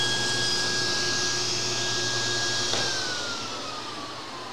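A vacuum dust extractor roars steadily up close, sucking woodworking debris down a hole in a bench, with a high whine that shifts pitch near the end.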